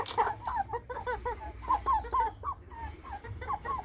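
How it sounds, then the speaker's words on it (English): Chickens cluck in a repeated, uneven run of short calls as they settle down for the night, close and fairly clear over a low background rumble. "Okay, chickens are ready to go to bed."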